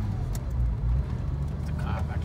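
A 1997 Porsche Boxster drives along, a steady low engine drone and road rumble heard from inside the cabin, with people talking over it.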